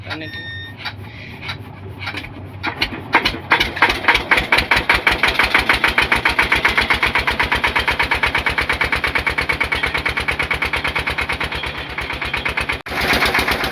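A small river-boat engine on the Damodar is cranked by hand and catches, its loud, close chugging thumps speeding into a steady rapid putter, with voices faintly in the background.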